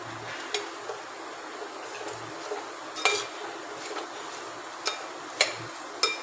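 Flattened rice (aval) and grated coconut being stirred in a pan, with a soft steady scrape and several sharp clinks of the spoon against the metal at irregular intervals.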